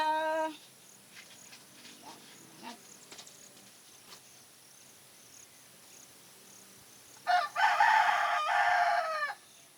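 A rooster crows loudly near the end, one long drawn-out call, after quieter stretches with chirping insects and faint clucks in the background.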